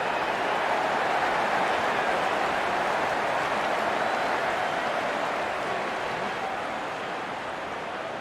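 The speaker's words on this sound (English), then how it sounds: "Openers walking in and the crowd cheering in anticipation" Crowd cheering in a cricket video game, a broad, constant wash of roaring noise from a large stadium audience, loud and unbroken throughout and fading slightly toward the end.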